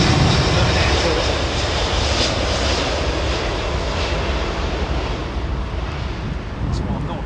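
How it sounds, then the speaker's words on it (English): A Boeing Dreamliner jet airliner taking off from a Gatwick runway makes a loud, continuous roar, heavy and sustained throughout, mixed with gusty wind buffeting on the microphone. "That Dreamliner, but nothing like that American jet that went up."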